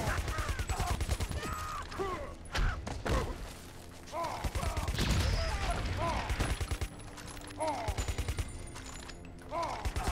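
Repeated gunshots from Jax's guns in Mortal Kombat vs. DC Universe, sharp bursts of fire and thuds mixed with game music and fighter grunts throughout.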